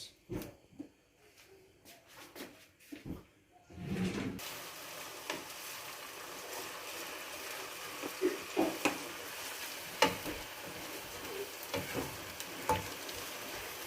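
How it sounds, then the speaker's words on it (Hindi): Ground onion fries in oil over a medium flame for a Chanay Chawal dish, a steady close sizzle that starts after a quiet few seconds and carries on with occasional stirring clatters. "दरमियानी आंच है, ज़्यादा तेज़ नहीं करेंगे क्योंकि ये प्याज जो है ग्राइंड किया हुआ है"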